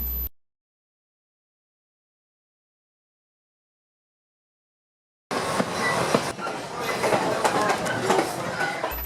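Restored heritage train on the Strasburg Railroad rolling along its rails through countryside, a steady broadband rumble and clatter starting abruptly after a long silence and continuing loud to the end.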